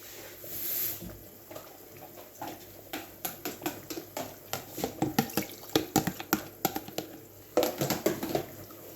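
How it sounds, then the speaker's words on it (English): Water is poured into a thick, creamy curry sauce in a pan, followed by soft, irregular bubbling, plopping and stirring sounds at close range. "I'm going to add a little bit more water to that."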